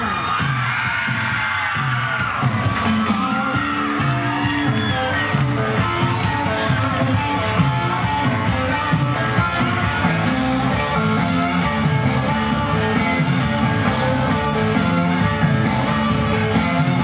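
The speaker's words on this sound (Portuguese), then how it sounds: "Vamos receber com uma calorosa salva de palmas, Jéssica Luana" A large pageant audience applauds and cheers for the newly crowned winner, with dense continuous clapping, whoops and yells sustained throughout, loud and close.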